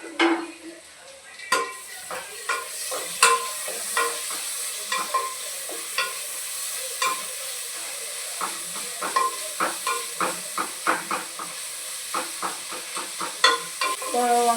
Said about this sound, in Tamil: வெங்காயம் நல்லா வதங்கி வந்ததும் லைட்டாக உப்பு தூக்கணும்.